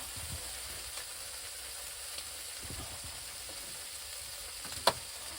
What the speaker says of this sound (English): So as you can see, bacon's cooking away.